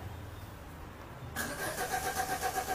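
A Peugeot 206 with a starting fault cranks but fails to fire, its starter motor churning in a steady rhythmic whir that begins suddenly after a quiet stretch, close and clear.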